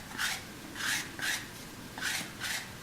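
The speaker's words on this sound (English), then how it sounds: "I'm going to come in with my gourd scraper." A gourd scraper thins the inside wall of a primitive clay pottery serving bowl, giving about five rhythmic rasping strokes, each a short scratchy swell a little over half a second apart, close and clear with no talk.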